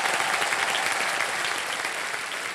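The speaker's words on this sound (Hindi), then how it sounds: "ताली बजा जोरदार कनक जी के लिए।" A studio audience on a TV quiz show claps steadily in dense, even applause that holds at a constant level from start to finish.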